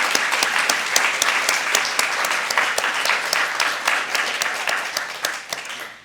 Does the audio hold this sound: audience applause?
yes